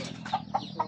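Desi chickens on a naturally run farm give three short, soft clucks in quick succession, fairly close.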